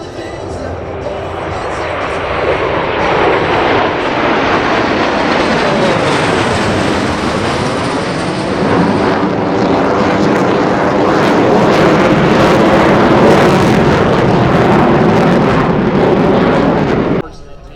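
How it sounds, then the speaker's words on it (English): Blue Angels jets in Delta Breakout formation at the Spirit of St. Louis Airshow, a loud sustained jet roar that builds and sweeps as the formation passes, then cuts off abruptly at the end. "Formation will separate in dramatic fashion. Ladies and gentlemen, the Blue Angel Delta Breakout."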